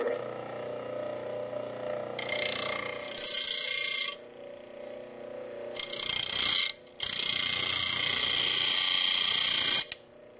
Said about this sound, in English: here's an example of the wheel on a bench grinder taking the saw marks out of a piece of extrusion